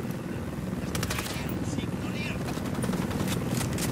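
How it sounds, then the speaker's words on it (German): A helicopter in the video game Ghost Recon Wildlands whirs steadily throughout, with a dense broadband rotor drone and choppy blade pulses under gunfire-like bursts and game noise. "Oh, Heli."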